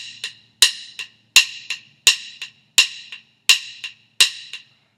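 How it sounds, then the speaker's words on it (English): Hi-hats play a steady even pattern, with every downbeat hit harder than the quieter notes between, giving seven bright, crisp accented strokes, close and alone. "Sometimes people like to play all those notes and just accent the beats, the actual downbeats,"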